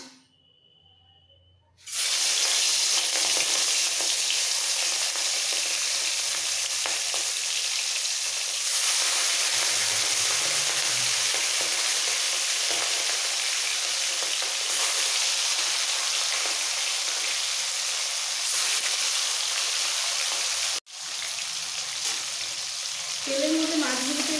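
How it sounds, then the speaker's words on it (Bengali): Loud, steady sizzling of prawns frying in hot oil in a kadai. It starts abruptly after a quiet moment and crackles continuously, with a brief dip near the end. "তেল বেশ ভালো করে গরম করে নিতে হবে নাহলে মাছগুলো নিচে লেগে যাবে"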